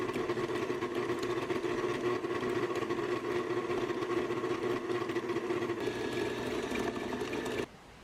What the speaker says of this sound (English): we're gonna go ahead and put this on our mixer and cream these two together